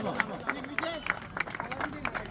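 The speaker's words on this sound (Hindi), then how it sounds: "जोरदार ताली बजाओ" An audience at a village marathon honouring girl runners claps in scattered, rhythmic bursts, the applause faint and mixed in with crowd chatter and an announcer's voice.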